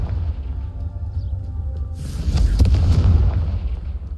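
A Confringo blasting spell goes off in the Hogwarts Legacy video game, and a deep boom swells suddenly out of a low rumbling backdrop, followed by a crackling explosive roar.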